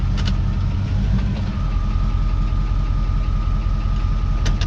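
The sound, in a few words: car engine running after being put in gear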